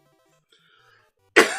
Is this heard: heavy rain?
no